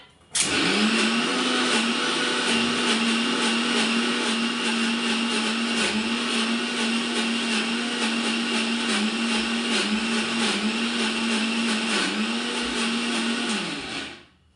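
A kitchen mixer grinder grinds a paste for making bori (lentil dumplings), a loud, steady motor whine that runs continuously at close range for about thirteen seconds before cutting off abruptly.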